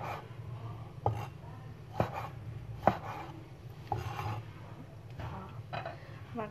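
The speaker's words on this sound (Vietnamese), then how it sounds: "Mình sẽ cắt bỏ cái phần cuống đi." A knife chops a tomato on a cutting board, trimming the stem, with about six evenly spaced soft thuds over a faint steady background hum, close and fairly quiet with no talking.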